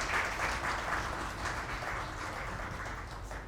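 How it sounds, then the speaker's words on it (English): An audience at a business lecture on mergers and acquisitions breaks into a steady round of applause, dense even clapping that holds at a moderate level for a few seconds. "as I expect a quick round of applause again."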